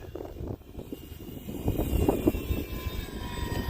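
An Arrows F4U-4 Corsair RC model warplane, flown again after repairs, drones steadily overhead with a continuous motor hum over light wind noise, slowly swelling as it passes.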